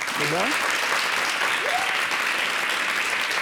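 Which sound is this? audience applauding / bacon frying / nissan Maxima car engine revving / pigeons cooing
audience applauding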